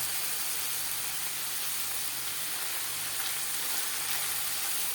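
Ingredients for an aubergine and minced meat dish sizzle in a pan with chopped mint and black pepper, a steady hiss of frying heard close and alone, without talking.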